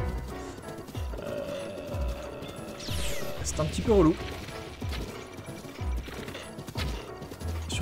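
Horse hooves in Zelda Breath of the Wild give a steady rhythmic clip-clop of galloping, with mechanical whirring and a crash midway, all under someone talking.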